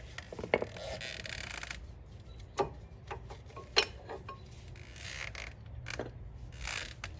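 Brake pads being pulled out of a Cadillac CTS brake caliper during a Brembo caliper install, making quiet metallic clicks, scrapes and a few sharp clanks over a low background hum.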